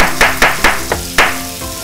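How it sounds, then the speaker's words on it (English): A knife chops lemongrass on a cutting board, bruising the stalks for adobong octopus: about five sharp, close blows at an uneven pace, each with a short ringing decay. "you bruise that by just like chopping densely so you get the flavors out."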